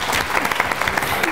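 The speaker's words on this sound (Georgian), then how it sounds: "აპლოდისმენტები კიდევ ერთხელ ქუთაის" An audience at a school quiz competition claps in steady, dense applause, close and loud throughout the short moment.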